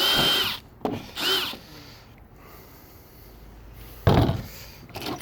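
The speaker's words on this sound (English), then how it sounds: "I just take my Phillips bit and I just turn it on and push down through" A power drill fitted with a Phillips bit punching through holes in a plastic shed panel, heard in short bursts: two brief whirs near the start and another at the end, with quieter handling noise between.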